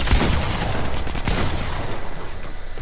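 Gunfire during a Fortnite squad match: a dense, loud burst of rapid shots rattling continuously, with no pause.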